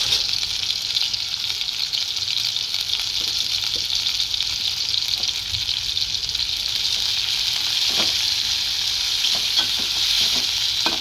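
Onion frying with salt in a pan for a dried fish curry, a loud continuous close sizzle with occasional light stirring scrapes and no voices.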